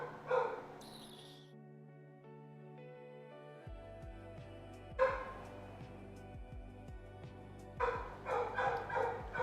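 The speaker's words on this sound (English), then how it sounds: "My dog's going insane because someone's home right now." A pet dog at home barks excitedly in short bursts, loud and close, with quieter stretches between flurries while music plays softly underneath.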